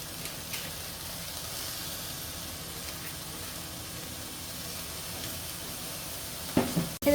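Dry red chillies fry in hot oil in a wok, a steady broadband sizzle and hiss that runs evenly throughout, ending with a couple of sharp clatters.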